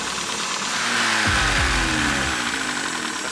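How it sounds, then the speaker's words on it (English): A car engine with an exhaust leak runs steadily up close, a broad hissing air and pressure noise over a low rumble, with a brief rise in revs midway and no talk. "the exhaust leak noise and that air noise"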